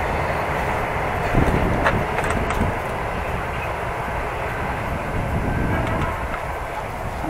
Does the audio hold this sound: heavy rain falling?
no